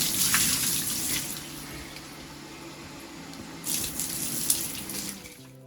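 Water runs steadily with a hissing spray, swelling louder near the end before cutting off.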